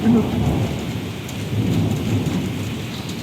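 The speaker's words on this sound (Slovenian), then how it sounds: "v daljavi grmi, v Izoli pa rahlo dežuje" In Izola on the Slovenian coast, thunder rumbles low and far off while a light rain patters steadily and fairly close, with no voices over it.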